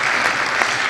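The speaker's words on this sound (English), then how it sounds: "Yes, another round of applause." Audience applause at a live literary magazine show during a Chicago festival: a dense, steady wash of many hands clapping, loud and close throughout with no voices.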